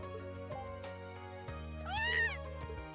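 In the video game Trails of Cold Steel, a cat gives a single clear, rising-then-falling meow near the middle, set against steady game background music.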